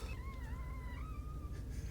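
A person imitates a cat, meowing through the nose in a faint, wavering, drawn-out nasal tone for about two seconds.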